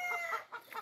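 Fighting roosters and hens on a ranch cluck and call in short repeated bursts, fairly close, with no talk over them.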